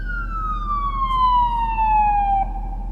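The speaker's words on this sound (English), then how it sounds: "you're hearing an ambulance coming down the street" An ambulance siren wails in one long, slowly falling tone as it passes down the street, loud over a low rumble of street traffic.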